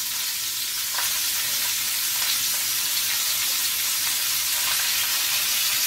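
Pork chops sear in a hot pan, giving a steady, bright, close sizzle that hisses on without a break and runs alone with no talking.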